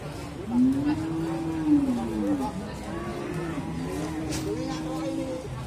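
Several cattle, including Simmental and Pegon breeds, moo in long, low drawn-out calls, one after another, amid the background murmur of the busy Muntilan livestock market in Magelang, Indonesia.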